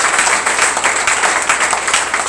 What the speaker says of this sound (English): I want us to clap for everybody that defined these two words